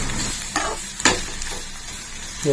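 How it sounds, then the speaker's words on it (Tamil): Garlic cloves sauté in hot oil for a greens dish, giving a continuous close sizzle with a few stirring scrapes and small spits. No voices are heard. "நாலு பூண்டு புல்லு இந்த மாதிரி எண்ணெயில் போட்டு வதக்கும் போது"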